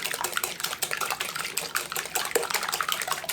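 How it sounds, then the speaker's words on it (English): Eggs for a pecan pie are lightly whisked in a bowl, making fast, close, continuous ticking and sloshing with a busy, steady rhythm and no voices. "I just barely whisk these eggs"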